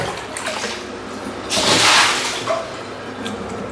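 Water scooped from a tub with a mug, a close gush and splash of poured water rising and fading over about a second, with smaller drips and sloshes around it.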